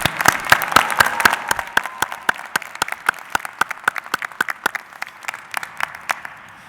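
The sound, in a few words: audience applause at a commencement ceremony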